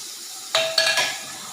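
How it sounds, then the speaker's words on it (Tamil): Fish frying in a pan gives a soft, steady hiss, with a few sharp metallic clinks of a utensil against the pan in the middle. "திருப்பி மீன் இருந்துச்சுல அதை பொரிக்கிறேன்."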